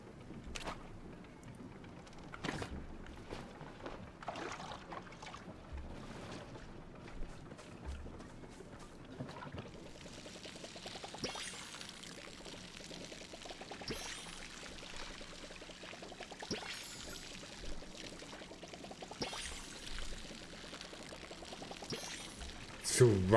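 Plants being watered in the farming game Palia, a steady pouring trickle of water running through the clip beneath game music and effects, with a person talking over it.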